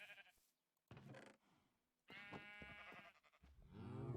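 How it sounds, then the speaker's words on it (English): Sheep in Minecraft bleat in a few short separate calls, the last one loudest and nearest, with quiet gaps in between. "There's some happy sheep and some happy cows."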